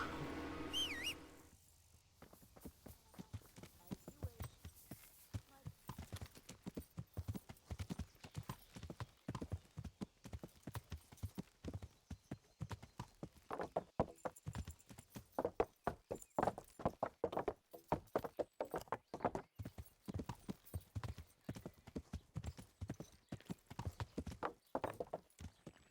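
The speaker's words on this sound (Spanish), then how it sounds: "¿Por qué a mi caballo le cuesta caminar?" Horse hooves clop along in the video game Kingdom Come: Deliverance, a close, steady walking rhythm that runs throughout after a short whinny-like sound at the start.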